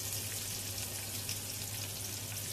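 Sage leaves frying in a pan give a steady, close crackling sizzle with dense fine pops that run unbroken throughout, with no talking.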